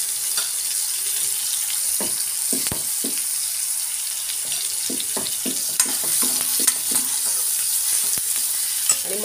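A pan of tomato and turmeric frying in oil gives a loud, continuous close sizzle, with occasional stirring scrapes and soft knocks, and no voices.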